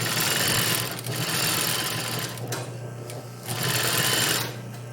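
A sewing machine stitches steadily around the circular edge of a fabric pocket, its close, continuous whir pausing briefly twice before starting up again.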